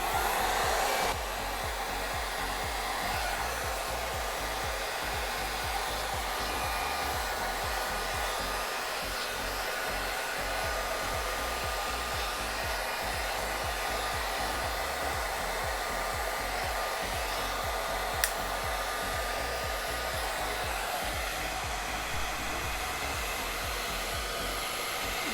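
A hot air brush hair dryer, either a Remington or a One Step, runs with a steady, loud blowing roar that holds unbroken and alone, apart from a single faint click midway.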